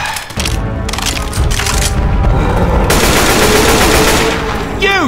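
Rapid automatic gunfire blasting at the Tank in Left 4 Dead 2 on a dark carnival map, loud and nearly continuous bursts layered with cracks and impacts, one weapon joining another partway through.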